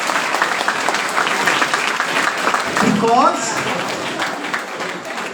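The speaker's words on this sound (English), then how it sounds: "So give yourself a nice round of applause." Steady applause from a room full of students rolls on without a break, with a voice speaking over it partway through.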